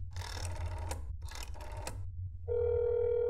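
A telephone rings in the horror game That's Not My Neighbor, two long trilling bursts of a bell ring, then a steady electronic tone as the call connects, with no speech.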